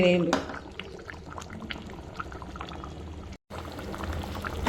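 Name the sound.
fish curry boiling in a pot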